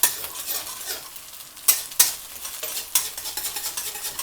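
Eggs fry in a lightly seasoned pan for egg fried rice, a steady close sizzle broken by a few sharp scraping stirs of the spatula.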